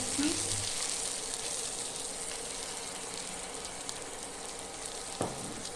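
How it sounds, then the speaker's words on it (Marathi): Sprouted moth beans fry in oil with roasted ginger-garlic paste, making a steady hissing sizzle that stays even throughout, with a brief bit of voice at the start and a small clink near the end. "घालून घेऊया आणि ती चांगली तेलात परतूया"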